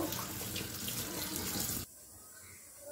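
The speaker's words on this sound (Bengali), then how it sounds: "এগুলো পরিষ্কার করে জলেতে ভালো করে ধুয়ে নেব।" Running tap water splashes steadily as cut vegetables—eggplant, pumpkin, potato, beans and radish—are washed in a kitchen sink, then the flow abruptly stops, leaving a quieter trickle.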